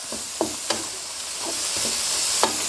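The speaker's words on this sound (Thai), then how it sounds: "ผัดถั่วงอกให้โดนกับความร้อน" A handful of bean sprouts seasoned with fish sauce stir-fried in a hot pan: a continuous loud sizzle with a few sharp spatula scrapes and knocks against the metal, close and without speech.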